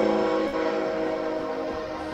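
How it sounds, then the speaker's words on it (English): A cat in the Dark Souls Remastered game gives a sustained train-like tonal blare, loud and steady for about two seconds before fading slightly. "did that cat just make a train noise?"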